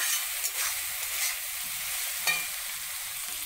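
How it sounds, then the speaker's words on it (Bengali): Spice paste for a Bengali chickpea, potato and paneer curry sizzles loudly in a pan as a little water goes in, a steady close hiss with faint stirring scrapes underneath. "এর মধ্যে আমি এখন সামান্য জল দিয়ে দিব মশলাটাকে কিন্তু কষানোর জন্য"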